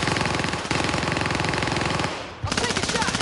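Rapid automatic gunfire in a video game, dense and loud, rattling in continuous bursts with a short pause before it resumes.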